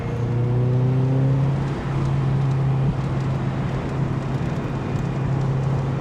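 A Mazda NC Miata runs on a race track, and its engine gives a loud, steady drone with a few slight shifts in pitch, heard continuously from inside or near the car.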